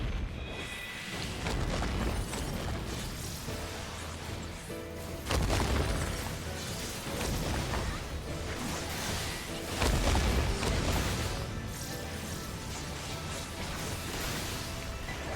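Cannon fire and explosions rumble continuously through a Final Fantasy XIV battle, with loud, dense booms and heavier blasts standing out at intervals over the constant din.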